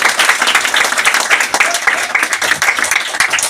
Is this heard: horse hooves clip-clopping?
no